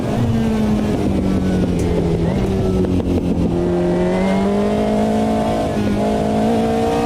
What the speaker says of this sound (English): That angry exhaust sound, listen. Like popping and crackling.